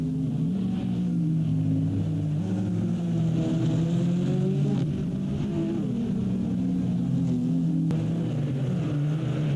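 GT race cars, including V8 Corvettes, a Lexus and BMW GT3 machines, roar around the Long Beach street circuit, a steady loud engine drone with shifting pitch as the pack passes.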